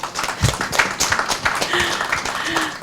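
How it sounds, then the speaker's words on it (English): Short burst of applause from attendees at a National Export Day press conference, a moderate spread of clapping hands rising and falling over a few seconds with some crowd noise mixed in. "Can we give that a round of applause?"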